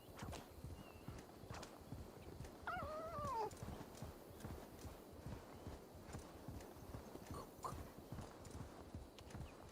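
Horse hooves in the mobile version of Assassin's Creed Valhalla: a steady, rhythmic clip-clop of a ridden horse at a walking pace, with a brief whinny partway through and no talking.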